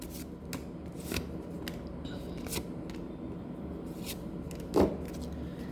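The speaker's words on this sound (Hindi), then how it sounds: "तो यहाँ पर मैं थोड़े से कार्ड निकाल लेती हूँ।" Tarot cards pulled from a deck: soft, close rustles and light papery snaps at irregular intervals, ending in one louder flick, in a quiet indoor room.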